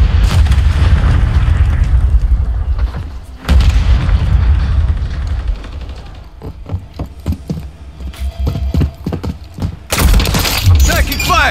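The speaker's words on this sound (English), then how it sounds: "Throw a grenade!" Grenade explosions and gunfire in Call of Duty: Modern Warfare 3, with heavy booming blasts near the start, around four seconds and again near the end, and sharp cracking shots between them.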